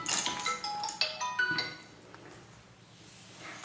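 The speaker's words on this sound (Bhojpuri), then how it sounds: "अरे फिर यहाँ के फोन आ गए इतना रात के।" A telephone rings late at night with a bright electronic ringtone, a burst of repeating chiming tones over the first two seconds that then fades into quiet room tone; nobody speaks.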